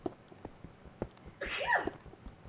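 A single short sneeze bursts out close by in a quiet room, a brief loud blast with a breathy tail, set against faint background clicks from Minecraft gameplay.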